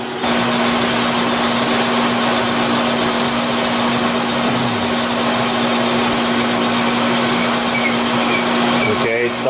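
A machine tool taking a cut, running as a loud, steady mechanical whine with a constant hum close by, unbroken for the whole stretch before a brief change at the end.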